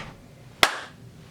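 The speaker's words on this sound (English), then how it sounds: "We're going to clap, and then 2 seconds after the clap." One sharp hand clap rings out alone in a quiet room, a single crisp snap that decays quickly.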